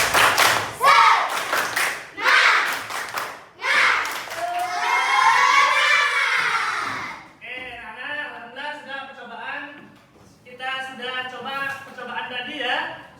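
A fourth-grade class claps a rhythmic cheer together, sharp clustered claps in a patterned beat, followed by the children chanting loudly in unison over the clapping.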